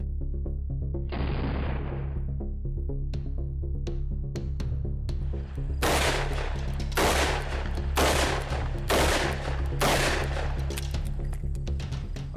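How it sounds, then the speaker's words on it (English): .357 rounds fired at a bulletproof armored vehicle, several sharp loud shots in quick succession, with more spaced single cracks first over a steady low hum. "Now we're doing the second round. 357, and the velocity is about 1275 feet per second, and the grain is 135."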